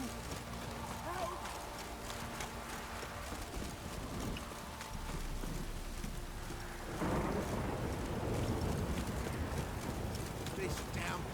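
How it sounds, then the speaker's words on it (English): Heavy rain pours continuously with deep rolling thunder in the video game The Witcher 3, a rhythmic clopping running underneath and the downpour growing louder in the second half. "This downpour's a bastard"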